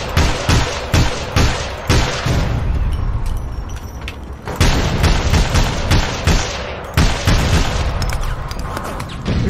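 Gunfire in APB Reloaded, with rapid bursts and single heavy shots repeating through the clip, loud and close, and thudding booms in between.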